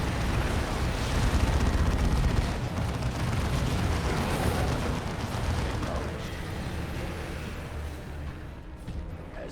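Covering fire and explosions from a Warhammer 40,000: Dawn of War II battle as Space Marines advance, a dense wall of rumbling blasts and steady gunfire, loudest early then easing slightly, with no voices.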